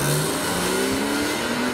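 A Porsche 997 without a V8, or a BMW E46 M3, drives away from a car show, its engine loud and close with a rising, sustained roar.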